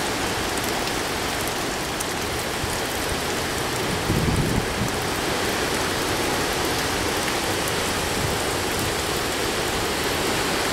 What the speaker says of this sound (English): Rain and wind. That's basically it.